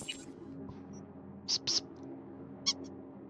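A cat in the Cyberpunk 2077 video game meows several times: two close short mews, then a third a moment later, clear over a low steady background hum.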